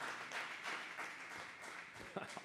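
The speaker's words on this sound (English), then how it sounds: "Round of applause there." A small audience claps at a livestreamed podcast, a brief, faint patter of hands that sounds distant and overlaps with talking.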